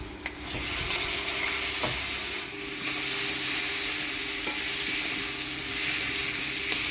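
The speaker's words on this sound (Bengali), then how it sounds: "মশলার সাথে আলুটা ভালো করে কষাই নিলাম" Potatoes frying with turmeric, salt and ground spice paste in hot oil, giving a loud continuous sizzle and hiss, stirred now and then with a spatula scraping the pan.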